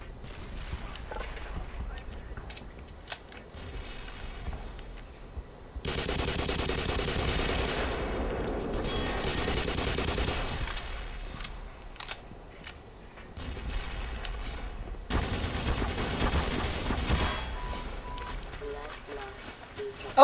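Tank cannon and gunfire in the Black Mesa game, with two loud bursts of booming, crackling fire amid battle noise and speech.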